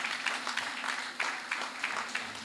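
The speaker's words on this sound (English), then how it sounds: "Applause, ladies and gentlemen." An audience at a political public meeting applauds in a steady patter of many hands, with periodic swells and peaks, moderately distant.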